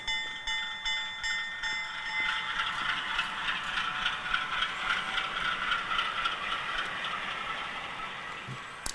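A Korea Brass U25C model locomotive runs under throttle, giving off a steady mid-to-high electric whine and hum that swells after a short start and holds evenly for several seconds, close and alone.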